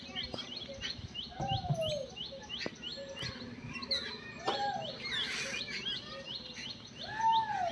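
Mynas calling on a rooftop where food has been scattered, a lively overlapping series of chirps, whistles and squawks close by, with insect buzz beneath.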